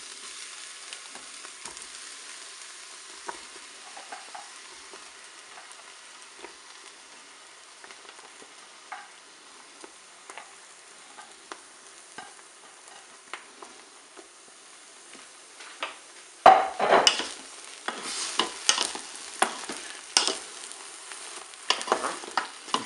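Aubergine slices fry with onions in a Cookeo multicooker: a faint, sparse crackle that turns into louder, denser sizzling bursts near the end.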